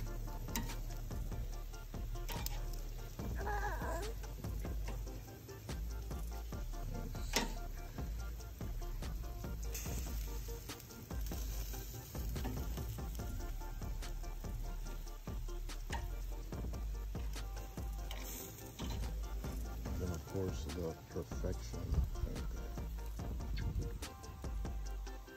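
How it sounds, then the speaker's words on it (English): Food frying in a pan sizzles steadily and close for a long stretch, a dense continuous crackle with occasional scrapes and clinks of cookware, no talking. "you see it sizzling?"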